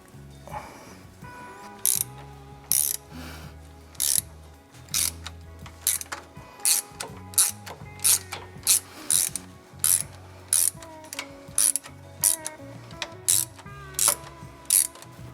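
A ratchet tightens the timing belt tensioner bolts on a Toyota 2UZ-FE V8, giving repeated bursts of sharp, close clicking in a steady back-and-forth rhythm with short pauses between strokes.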